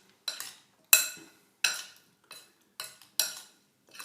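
A utensil stirs papaya pieces with cayenne in a dish, giving about seven separate clinks and scrapes against the bowl at an uneven pace, close and fairly quiet, with silence between them.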